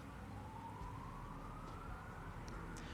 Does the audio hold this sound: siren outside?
yes